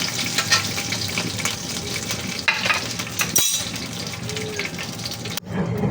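Margarine or butter sizzling and frying in a pan that just held oil, a steady crackling hiss with brief scraping stirs and clinks, close and loud.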